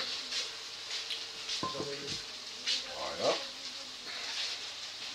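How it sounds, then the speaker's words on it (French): Sliced chicken wings sizzle in a pan of cooking onions for an Ivorian chap chap dish, a steady frying hiss with light stirring clatter and a brief spoken word over it. "On vous ajouter les ailes émincés dans les oignons qui cuisent."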